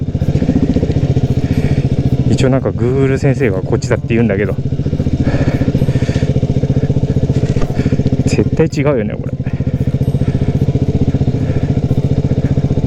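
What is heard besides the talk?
motorcycle riding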